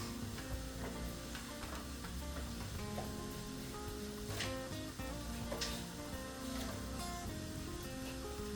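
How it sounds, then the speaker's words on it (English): Celery sautéing in beef fat, a soft continuous sizzle with occasional stirring and crackles, fairly quiet and close. "this is a lot of celery. So that's going to saute up right down in that beef fat"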